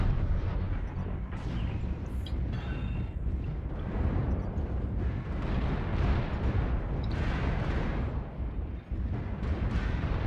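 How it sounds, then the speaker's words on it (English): Missiles slamming into a mech in MechWarrior Online, a dense, continuous barrage of heavy booming impacts and rumbling explosions overlapping throughout, loud and close with no pause. "I moved in the stream of those missiles"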